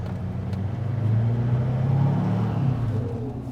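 A GMC Duramax 2500 diesel pickup with a 5-inch exhaust drives past, a steady low engine rumble swelling and easing as it goes by, with a faint turbo whistle lifting off-throttle.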